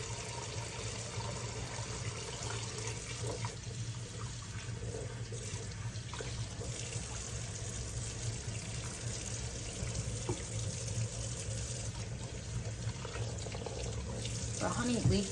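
A kitchen tap runs steadily into a sink while honey-coated measuring spoons are rinsed beneath it, a continuous close rush of water with faint clinks, swelling slightly at the end.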